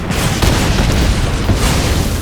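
A spell effect from the MTG Arena card game, Magic Missile, hits a player and two creatures as one loud, dense burst of booming impact that holds steady for a couple of seconds with no talking.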